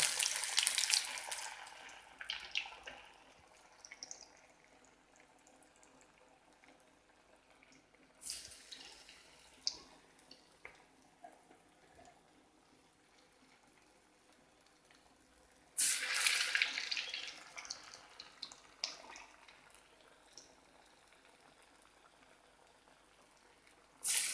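Pathrode pieces, dipped in rice flour batter and rolled in rice rava, fry in hot oil with a steady bubbling hiss; louder bursts come as pieces are added or turned.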